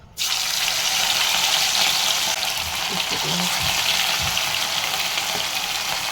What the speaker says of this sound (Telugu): ఆయిల్లో ఫ్రై చేసుకోవాలి. నూనె బాగా కాగాక